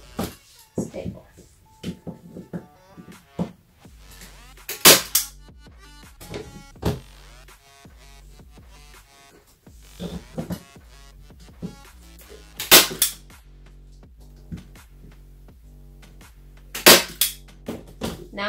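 A staple gun fires sharp, loud snapping clacks at irregular intervals while stapling fabric canvas to a wooden frame, with rustling and handling sounds between the shots.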